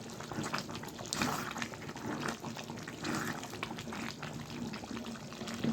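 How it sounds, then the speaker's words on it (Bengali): Water is poured into a pot of chicken curry with potatoes, peas and tomato, a steady close splashing and gurgling. "পরিমাণ মতো জল দিয়ে দিলাম"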